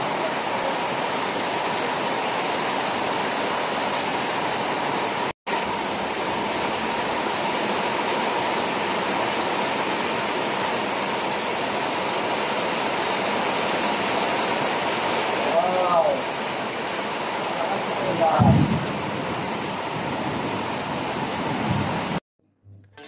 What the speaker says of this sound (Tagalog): Halos nasa 1 oras din ang itinagal ng ulan